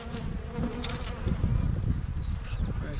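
A honeybee colony buzzes loudly and densely during a spring hive inspection, with a dense swarm-like drone close up. Individual bees whine past over the constant hum.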